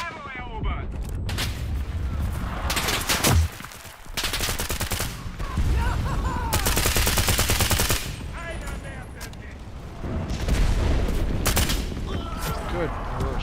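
Artillery strikes and heavy gunfire rage in an Enlisted battle at Germany's Central Station, with loud booming blasts and rapid machine-gun bursts in dense waves, broken by brief lulls, while voices talk intermittently.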